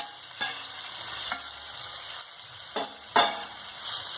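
Pineapple thoran stir-frying in a pan, a steady quiet sizzle broken by several sharp scrapes and clicks of a spatula stirring the fruit, no voices.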